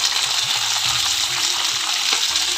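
Mixed vegetables sizzle steadily in a pan over low heat for a navratan korma, with a dense continuous frying hiss and occasional stirring scrapes and clinks of a spoon.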